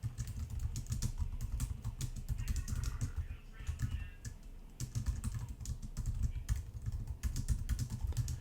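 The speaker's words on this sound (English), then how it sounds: "let's type that in." Typing on a computer keyboard, a rapid stream of close, crisp key clicks with a brief lull partway through before the tapping resumes steadily.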